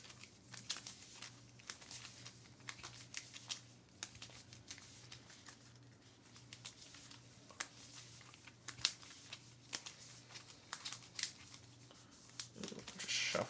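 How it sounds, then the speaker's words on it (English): Game cards from the board game Kingdom Legacy are shuffled and handled on a table, giving soft, irregular crinkling and flicking taps that stay quiet and close, with no talk. "Just shuffling everything out."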